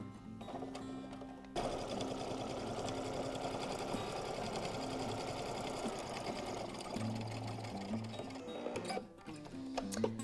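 A sewing machine stitches thick denim cut from jeans, running in a continuous fast mechanical whir close by, with brief pauses and clicks at the start and end.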